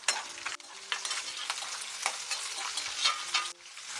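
Green chillies sizzle and crackle steadily in hot oil while being fried and stirred for semiya pulihora, close and continuous, with faint scraping of the stirring utensil and no talking.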